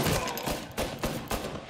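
Shotgun blasts in Mafia: Definitive Edition, three loud booming shots spaced about a third of a second apart over a dense background of game noise.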